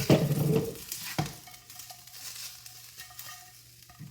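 Nuts cook in a pan for drunken noodles with a soft sizzle and scraping stir, a louder clatter at the start, then a quieter hiss with occasional small clicks, and no voices.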